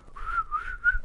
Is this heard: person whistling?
yes